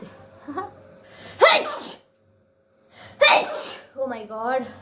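Two loud, close sneezes about two seconds apart, each with a sharp inhale before it, followed by a brief spoken exclamation.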